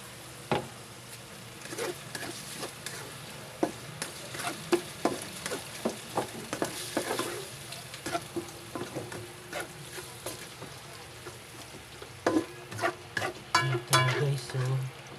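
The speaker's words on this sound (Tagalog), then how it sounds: "Hayaan natin siyang maprito." Ampalaya con carne, bitter melon and beef thickened with cornstarch and seasoned with pepper, frying in a pan with a steady low sizzle broken by scattered clicks and sharper stirring taps, close and fairly quiet throughout.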